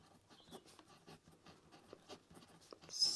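A pen scratching across paper while working out a class 10 maths exam equation: quiet, close, continuous scribbling strokes in uneven short bursts.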